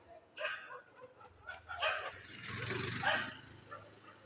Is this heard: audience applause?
no